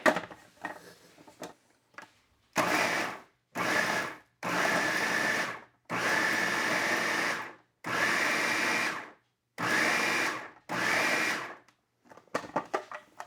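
A food processor blending shrimp into a thick paste whirs in a series of short pulses of several seconds each, separated by brief pauses, close and fairly loud.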